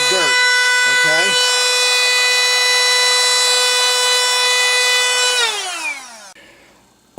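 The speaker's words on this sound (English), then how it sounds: "here we're going to simply take the Hurricane and we're going to blow out the switch of all that dirt" A Hurricane canless air blower spins up to a loud steady whine with a strong rising and holding tone, blowing dirt out of a switch, then winds down with a falling pitch; a voice speaks briefly at the start.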